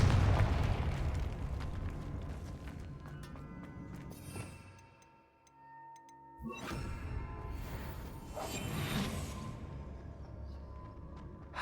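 A Confringo fire spell in the Hogwarts Legacy video game sets off a loud, rumbling blast that fades into a short quiet gap. A second roaring burst of fiery noise follows, with no voices.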